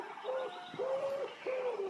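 A pigeon in a French animated fable coos in three soft, drawn-out calls spaced across a short span, heard alone and fairly close.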